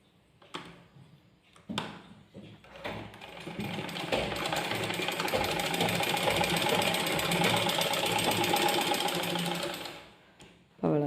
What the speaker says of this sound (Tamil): இங்கேருந்து இது வரைக்கும் ஒரு தையல் போட்டுக்கணும்.